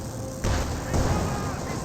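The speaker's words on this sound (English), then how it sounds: "Getting a great hit there with the cannon onto the Grenadiers as well" A Churchill Crocodile tank's cannon hits infantry in Company of Heroes 2 as a short, heavy boom followed by a second impact, loud and close over a continuous battlefield din.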